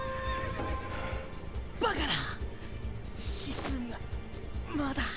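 A red horse in the video game Samurai Warriors whinnies several times, sharp rising neighs over steady game background noise and faint hoof clatter.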